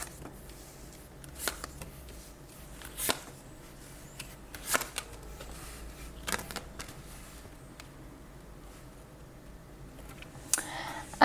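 Tarot cards are shuffled in a series of soft, papery riffling bursts spaced every second or two against a quiet room, with no one talking.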